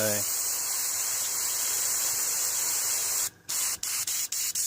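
An airbrush with a 0.3 needle, fed by a compressor through a moisture trap, hisses steadily and loudly up close as paint sprays out, then cuts off into several short bursts.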